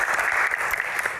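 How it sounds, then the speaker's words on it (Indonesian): A studio audience claps in a brief, loud, tightly packed burst of applause that holds steady without any talk over it. "Tepuk tangan teman-teman."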